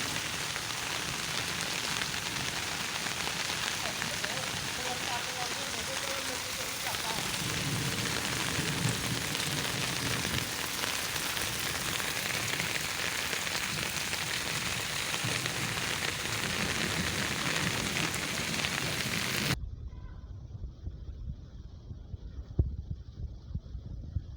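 A torrential downpour drums on surfaces in a hill village with drains overflowing, a steady dense roar for most of the time before it abruptly drops to a much quieter background near the end.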